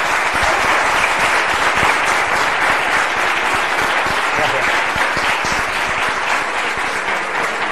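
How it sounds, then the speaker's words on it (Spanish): Dense, loud applause from a large audience at a science talk, sustained at an even level for the full stretch with many hands clapping together. "Un aplauso"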